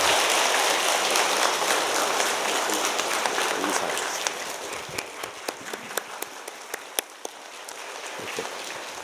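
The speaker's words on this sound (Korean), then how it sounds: "우리 뜨거운 박수로 축하합시다." A church congregation at a Sunday service gives warm applause for newborn babies, a loud, dense burst of clapping that thins into scattered claps as it dies away.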